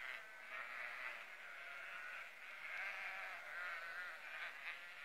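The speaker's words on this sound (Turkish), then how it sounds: "Bütün koyunlar tek hamlede ayağımda." A flock of sheep bleating in a Niğde pasture, a dense continuous chorus of overlapping bleats held close and fairly loud for several seconds, with no talk.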